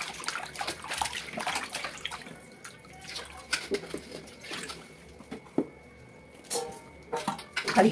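Cleaned korameenu fish pieces being washed by hand in water, with splashing, sloshing and intermittent clinks against a vessel in uneven bursts, fairly close and moderately quiet.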